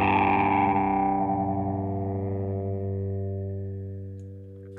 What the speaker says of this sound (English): Now you can hear the guitar has a lot fatter sound.